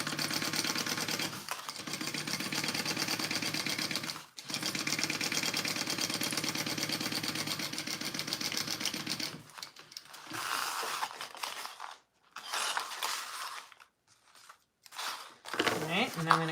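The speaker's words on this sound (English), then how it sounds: "Now I'm gonna sew all of my sides up, because I've already left my hole" A home sewing machine stitches the side seams of a fabric sling bag, whirring in a steady mechanical rattle for several seconds, pausing briefly, then running in shorter stop-start bursts near the end, with a voice talking over it.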